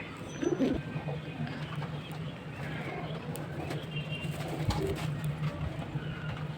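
Pigeons in a loft coo softly and steadily amid a busy background of rustling and faint twittering, with a low continuous hum running underneath throughout.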